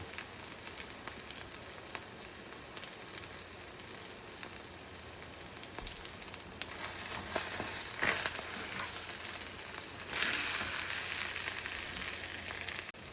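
Fried rice with sriracha sizzling in a hot pan, a steady crackling fry that runs throughout, swelling louder in the second half with brief sharper hisses, close and without talk.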